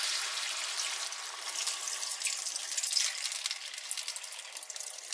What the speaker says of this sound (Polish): Teraz zalewam to wodą.